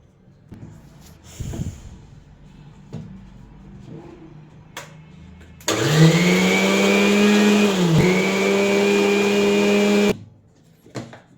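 Kitchen mixer grinder whirs at full speed for about four seconds while blending banana pieces with cinnamon powder, a loud steady motor whine with a brief dip mid-run, framed by quieter clatter before and after.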